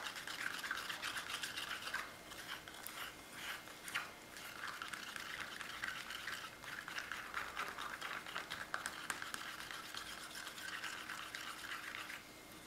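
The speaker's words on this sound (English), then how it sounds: "And let's just mix. Let's just start mixing that color up." Pigment powder is stirred into a tablespoon of vivid clear enamel for acrylic paint pouring, giving a steady, continuous scraping and swishing that runs unbroken from start to finish at close range, with no talking.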